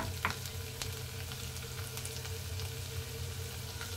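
Garlic and kale fry in a pan with a soft, steady sizzle and occasional faint crackles and pops, heard close up and alone.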